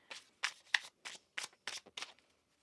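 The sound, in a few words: shuffling tarot cards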